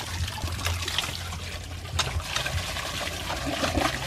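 Water is poured for cooking in a rural provincial home, a soft continuous trickle and splash running the length of the clip. It is fairly faint and sits over a low background hum.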